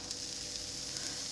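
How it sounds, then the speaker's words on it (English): Sourdough crepe batter hits a hot pan and sizzles in a soft, steady hiss with faint crackles, quiet and close, without voices. "Oh, it's sizzling."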